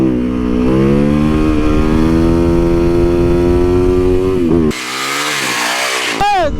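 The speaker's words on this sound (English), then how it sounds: "My hooligan bike is my 2019 YZ450FX Supermoto." A 2019 Yamaha YZ450FX supermoto motorcycle engine revs loudly and close, with a sustained rising roar that holds steady, then changes character before a final sharp blip of the throttle.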